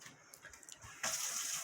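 Warm water poured from a tap or jug into a bowl for bread batter, a soft splashing stream that starts abruptly partway through and continues faintly, recorded close in a quiet kitchen.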